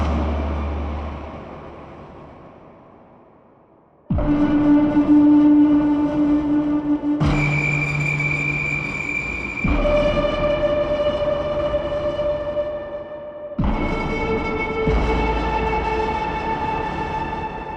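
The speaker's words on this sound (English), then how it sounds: "These patches were designed to be stingers, mostly." Dense, dramatic synth hits swell in one after another, each a loud sustained chord with a rumbling low end after a fading opening tone.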